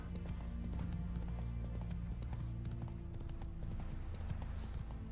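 Horse hooves clip-clop steadily through The Witcher 3: Wild Hunt during a daytime fight with a Noonwraith, a continuous trotting rhythm up close under game music and ambience.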